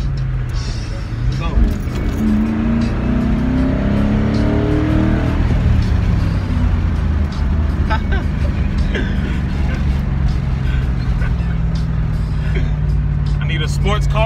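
A car accelerates hard close by, its engine note rising and then dropping as it shifts into second gear before pulling again, with the steady drone continuing under people talking.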